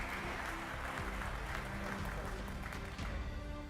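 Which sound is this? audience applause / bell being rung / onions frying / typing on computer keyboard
audience applause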